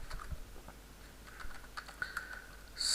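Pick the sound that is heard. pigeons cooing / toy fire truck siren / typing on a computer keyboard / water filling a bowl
typing on a computer keyboard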